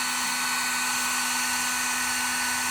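A heat gun blows steadily on vehicle interior plastic, a loud, continuous close-up hiss and whir with a constant motor hum, alone and unchanging throughout.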